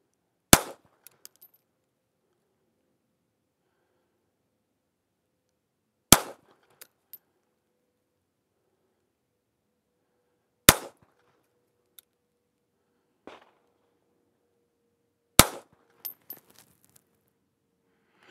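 A Walther PPK pistol with a 3-inch barrel fires .32 ACP rounds in four sharp, separate cracks several seconds apart, each followed by faint clinks in an otherwise quiet setting.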